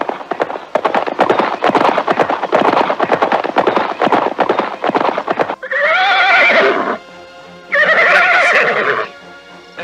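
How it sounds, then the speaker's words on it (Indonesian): Rapid galloping hoofbeats from a radio drama sound effect pound steadily for several seconds, then two loud, drawn-out horse neighs ring out one after another, close and clear. "Derap kaki kuda terdengar nyaring, membelah suasana hening dan sepi."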